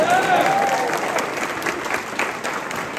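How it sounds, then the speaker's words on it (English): Audience applause at a high school honors choir concert, a dense and loud wash of clapping that holds steady for several seconds. "give yourselves a round of applause"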